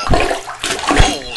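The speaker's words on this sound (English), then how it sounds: "take our plunger and get as much water out of the" A plunger pushes water from a toilet bowl during a bathroom floor repair, giving two loud gurgling, sloshing surges in quick succession, close up.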